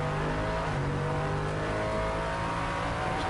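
Onboard sound from a Nissan GT1 race car during 2010 FIA GT1 qualifying at Algarve: a loud, sustained engine roar under acceleration, heard close up from inside the car.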